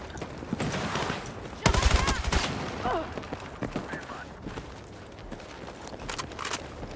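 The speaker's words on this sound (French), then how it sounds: "Fusil mitrailleur Trop bien, cette arme." A light machine gun fires in the shooter Battlefield 6, with a loud burst of shots at close range followed by scattered distant gunfire and ambient battle noise, with someone talking at times.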